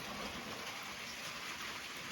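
Steady rain falling on a roof above a pig house, a dense even hiss with no breaks, fairly close and continuous throughout.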